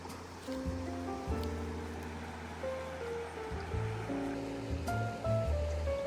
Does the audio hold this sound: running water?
yes